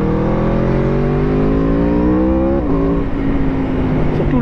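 A sport motorcycle, a Yamaha R6 or Aprilia RSV4 RR, with its engine revving up in a rising howl, a brief dip near the middle, then climbing again, loud and close, no voices.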